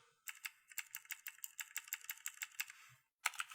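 Steady, brisk typing on a computer keyboard while editing Python code, a close run of crisp keystrokes that stops briefly before a final sharp tap, with no speech.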